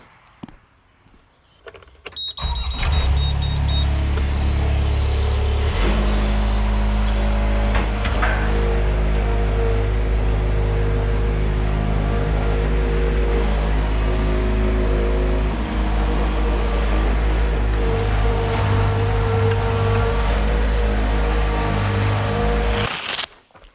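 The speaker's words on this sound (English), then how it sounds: "I'm going to scoot off in the skid steer quick before anybody else comes to try and find me again." A skid steer loader starts up and drives off, its engine a loud, close, steady low drone that holds for about twenty seconds before cutting out abruptly at the end.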